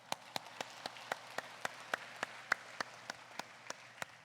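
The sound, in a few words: applause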